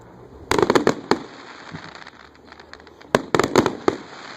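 Backyard consumer fireworks and firecrackers go off at an Independence Day show, two bursts of rapid crackling bangs separated by a quieter stretch, moderately near and loud.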